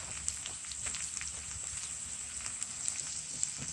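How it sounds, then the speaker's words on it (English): Garlic and serrano peppers fry in a pan with a steady, crackling sizzle and small popping spatters, close and even throughout. "Let it cook a little bit more so that the peppers are also softer"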